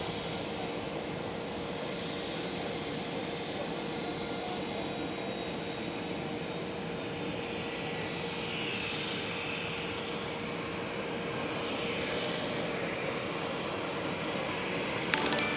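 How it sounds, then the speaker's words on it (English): KLM Boeing 737 jet passing at Amsterdam Schiphol, a steady broadband engine roar with a rising whine sweeping through mid-way, moderately distant and alone without talk. "KLM 737"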